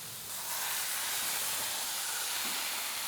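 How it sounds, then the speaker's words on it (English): A steady, loud hiss of smashed burger patties sizzling on a hot Traeger griddle continues throughout, rising after a quieter start. "Listen to that baby sizzle."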